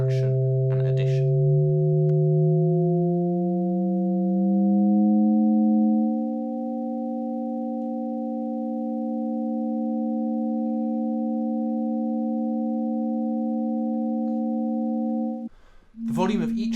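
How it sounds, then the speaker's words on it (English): Hyasynth, a custom prototype synthesiser, holding sustained combination tone chords: steady layered tones with a gliding shift into a new chord, then a held chord before a brief break and a fresh attack at the end. "I move through more combination tone chords"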